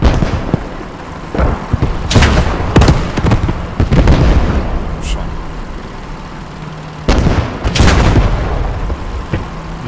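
An 8.8 cm Flak 36 gun in the video game Post Scriptum fires several loud, booming shots at irregular intervals, each a sharp blast with a rumbling tail, while players talk in the background.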